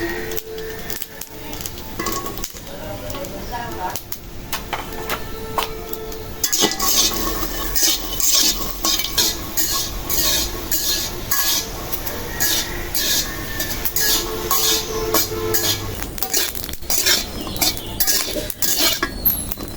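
Green chilies and garlic dry-roasting without oil in a pan, stirred with a metal utensil: a steady clatter of scraping and tapping against the pan, close and continuous, with no talking.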